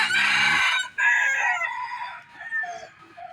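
A rooster, a house chicken found in the mountains, crows once loudly and close, the call breaking and trailing off into softer clucking notes.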